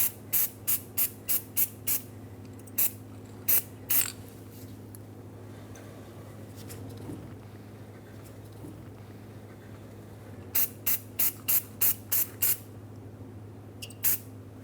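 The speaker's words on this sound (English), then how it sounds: "I'm going to coat the surface of the hub in anti-seize." Short bursts of anti-seize spray coat the hub of a 2003-2009 Dodge Ram 2500 brake assembly, a quick string of close hisses, a pause, then another rapid series, over a steady low hum.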